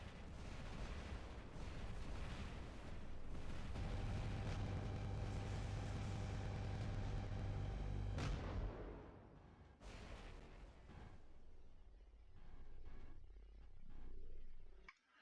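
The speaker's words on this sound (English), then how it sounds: "the trebuchet can be fired at any time while it's reloading" A trebuchet weapon fires in the War Robots game, producing heavy, booming, rumbling blasts that roll together into a long, loud roar and then die away into quieter explosive thuds.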